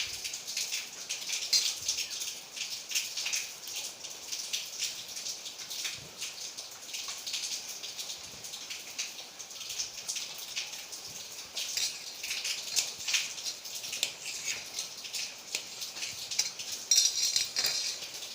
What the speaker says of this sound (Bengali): আমি এবার এই আলুটাকে পিস পিস করে কেটে নেব।